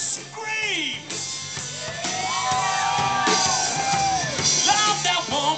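A concert crowd at The Pier at Garden City screams, whoops and yells in a loud, sustained wave of high-pitched cheering that swells through the clip with overlapping shouts.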